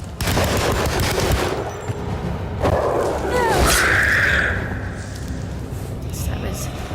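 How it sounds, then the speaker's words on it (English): Loud, rapid machine gun bursts rattle through a tense scene in the video game Alone in the Dark, with heavy booms and dense continuous gunfire filling the space for several seconds. "Oh, machine gun fire, good."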